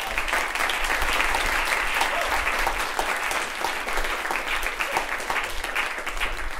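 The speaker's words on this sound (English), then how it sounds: "So let's give everybody a quick round of applause." An audience at a school music presentation gives sustained, even applause, a dense crackling roar of many hands clapping at steady loudness throughout, with no talk over it.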